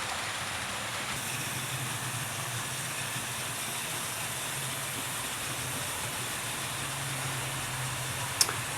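A model steam train runs along its track with a steady hiss and low rumble throughout, even and continuous for nearly nine seconds, ending in a brief sharp click near the end; no one speaks.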